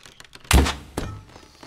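An arrow strikes a bullseye target in the VR archery game The Lab, landing with a sharp, loud thunk, followed by a softer second impact and faint taps, with no talk.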